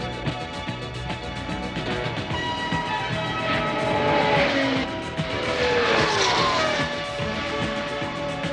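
A race car on an Indy 500 qualification run, a loud continuous engine roar with pitch sweeping up and down as it passes, over dense crowd and broadcast noise throughout.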